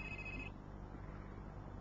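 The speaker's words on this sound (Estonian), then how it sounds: "See on vist sinu telefon, mis heliseb." A telephone rings briefly with a bright electronic tone over steady background hiss, then the ringing cuts off and only low ambient noise remains.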